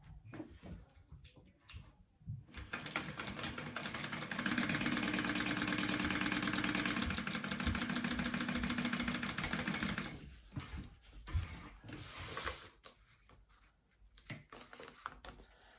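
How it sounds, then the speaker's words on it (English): Sewing machine top stitching across a mini backpack, a loud steady whirring run of about six seconds, with handling noise and short bursts before and after. "go ahead and top stitch across the top"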